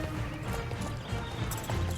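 Horse hooves clip-clop in the video game Star Stable Online, a steady rhythmic run of hoofbeats that continues throughout over a fairly loud, busy game soundscape.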